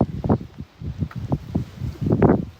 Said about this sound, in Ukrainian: Ховаюся від вітру.